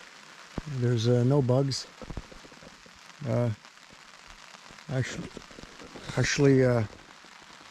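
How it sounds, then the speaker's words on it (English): Rain patters steadily on a tent fly at a canoe campsite, a soft continuous drumming beneath several short bursts of nearby talk. "Listen to the rain."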